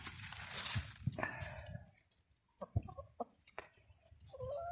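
Hens cluck in short, irregular bursts close by in a garden, with some rustling and scattered footsteps between the calls.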